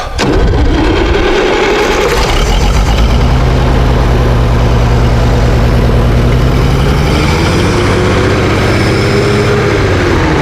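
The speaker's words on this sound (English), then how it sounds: "So it is a gas tractor, which you guys can hear." Old gas-powered farm tractor engine cranking and catching, then settling into a loud, close, steady low chugging idle with a rough uneven rumble that holds for the rest of the clip.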